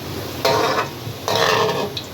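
Minced meat frying and being stirred in a pan for karela gosht, a steady sizzle with two louder bursts of scraping and stirring, close and alone.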